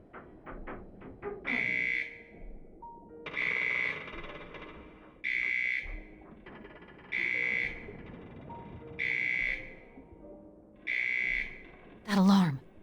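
Alarm in the video game Return to Mysterious Island 2: six evenly spaced electronic beeps, each about a second long, ring out over a quiet ambient background, then end in a brief rising tone.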